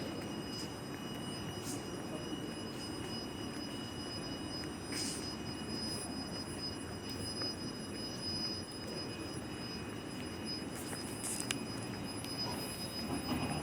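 Train pulling out of Kołobrzeg station, a steady broad rumble of rolling stock with faint wheel squeal, sustained and moderately distant throughout.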